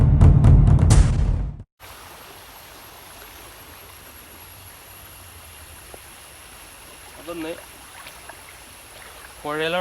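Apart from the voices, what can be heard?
river flowing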